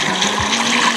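Water pouring at the Tel Dan waterfalls in Israel, a loud, continuous close-up splash and rush with no break.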